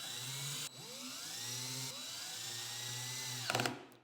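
Power driver tightening Rizoma bar end protection bolts on a 2025 Ducati Panigale V4, short whirring runs that spin up and stop, with a brief clicking rattle near the end, close and alone.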